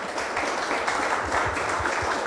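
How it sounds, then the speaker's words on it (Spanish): Audience applause for a poet after a reading of his poems at a literary session, a continuous, fairly loud wash of clapping with no letup. "un aplauso más para el maestro Banín, por favor."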